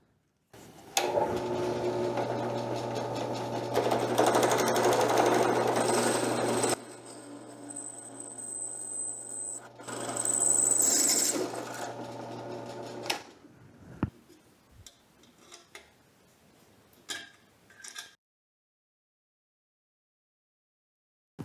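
A drill press bores through a tool steel medallion from a 125-year-old hand saw, with a steady motor hum and a grinding whine as the bit cuts in two long bursts, followed by faint clinks and handling noises.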